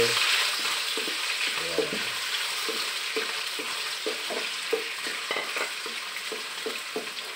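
Meat sizzles and fries steadily in a pan while being stirred, with soft scraping strokes repeating over the constant hiss, close by and with no talking.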